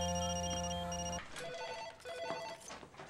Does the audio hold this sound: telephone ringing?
yes